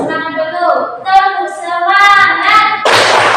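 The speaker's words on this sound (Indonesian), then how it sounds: "tepuk semangat dulu" A classroom of students performs a rhythmic spirit clap (tepuk semangat), voices chanting in a sing-song pattern before a loud, close burst of clapping at the end.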